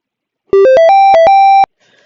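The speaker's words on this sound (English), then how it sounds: "Play the power up sound." A short electronic power-up jingle from a Circuit Playground Express: seven quick rising and stepping beeps in a bright tone, clean and alone, about one second long.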